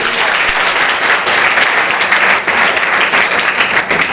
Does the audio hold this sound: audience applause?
yes